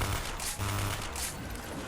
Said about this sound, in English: How fast does the MP5 shoot on this? That is a noise and a half.